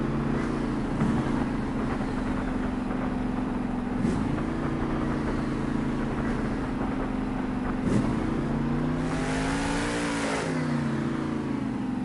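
Avenger monster truck engine revving hard during a sky wheelie at a Monster Jam stadium show in Las Vegas, a loud sustained roar whose pitch rises and dips several times over the constant crowd and arena wash.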